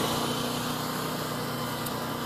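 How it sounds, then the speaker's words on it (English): A drain jetter's engine runs at a steady, high-pitched drone, loud and continuous after starting and coming up to speed, with no voices over it. "we hit engine ignition, and then engine start, and there it is. Give the engine the moment to come up to speed"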